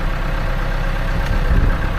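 A tractor engine idles steadily nearby, a continuous low rumble that holds its level throughout, with no talk over it.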